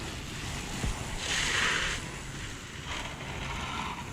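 A pressure washer sprays steadily during house washing as the soap mix comes through the line, giving a constant close hiss that swells louder for a moment and then settles, with no talking.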